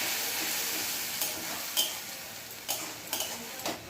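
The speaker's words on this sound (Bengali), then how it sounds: "এবার মিক্সিতে যে মশলাটা বেটে রেখেছিলাম সেটা পেঁয়াজের মধ্যে দিয়ে সমস্ত মশলা ভালো করে মিশিয়ে নিচ্ছি।" Ground spice paste being stirred into frying onions in a pan while cooking crab curry, a steady sizzle with several distinct scraping stir strokes and light clicks of the utensil against the pan.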